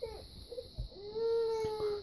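A young boy cries and wails in the background indoors, faint and distant, with short whimpers building into a longer sustained cry.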